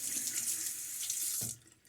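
Water runs steadily from a bathroom tap during a wet shave with a Fatip Piccolo open-comb safety razor, a broad continuous hiss that cuts off sharply near the end.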